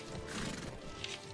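A horse whinnies in a brief, full-bodied neigh over a steady background din, with hoof clatter mixed in, in the video game Mount and Blade Warband during a siege.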